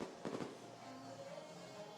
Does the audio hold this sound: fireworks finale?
yes